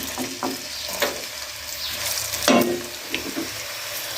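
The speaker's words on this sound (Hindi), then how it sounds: "तो अभी इसमें डालते हैं प्याज।" Chopped onions sizzling as they go into hot oil for a potato biryani, a steady close crackle broken by a few sharper stirring clatters, with no voices.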